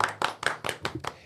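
A few seconds of audience clapping on a Brazilian comedy talk show, with sharp claps landing in a quick, even rhythm, close and fairly soft.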